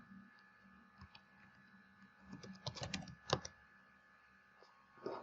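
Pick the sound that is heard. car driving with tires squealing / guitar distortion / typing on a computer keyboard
typing on a computer keyboard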